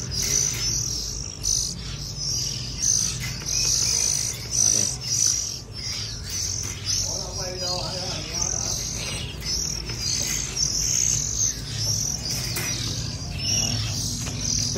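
Shrill chirping from oriental magpie-robin chicks repeats in bursts over a steady insect-like hum, fairly close and continuous.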